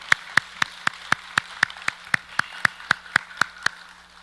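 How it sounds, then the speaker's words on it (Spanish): A church congregation claps in tight unison, sixteen sharp, evenly spaced claps at a quick steady beat, close and loud, with no talk over it. "Dar un aplauso al Señor por esto."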